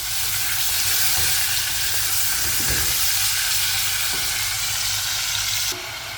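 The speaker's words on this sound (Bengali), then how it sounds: "পেঁয়াজের সাথে আমি চিংড়ি মাছটা একটু ভেজে নিচ্ছি" Shrimp frying with onion in a pan of spice paste, giving a loud, continuous close hiss and sizzle that softens slightly near the end.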